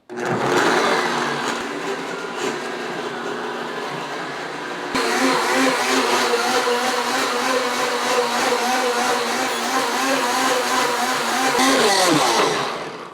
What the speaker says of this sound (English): I'm just gonna blend it now till it's a nice green soup.